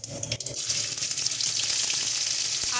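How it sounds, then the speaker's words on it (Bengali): Cumin and bay leaves drop into hot oil and fry with a loud, steady hiss and crackle close up, after a few brief clinks at the start. "দেখো এদিকে আমাদের তেল গরম হয়ে গেছে, দিয়ে দিচ্ছি জিরে আর তেজপাতা"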